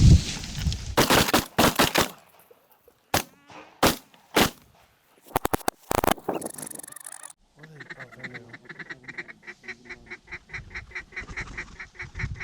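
Loud gunshots crack in rapid bursts during a hunt, roughly eight sharp blasts within a few seconds, followed by a steady chorus of honking and quacking bird calls.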